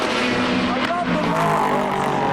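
A Dodge Viper race car roars past on a racing circuit, a loud continuous engine drone with a shifting pitch as it goes by, mixed with crowd noise and background talk.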